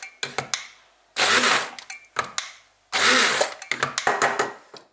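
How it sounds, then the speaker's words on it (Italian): A blender purees persimmon pulp for a natural cake batter, running in two longer broadband bursts between short stuttering pulses and clicks, as if it keeps stalling; no one speaks. "adesso la frullo per bene per rendere tutto omogeneo"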